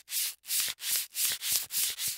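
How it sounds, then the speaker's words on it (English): Fine sandpaper rubs back and forth over a primed painting panel in seven even strokes, a close, rhythmic scratchy hiss with brief gaps between passes. "I like to take the sandpaper and just smooth it out."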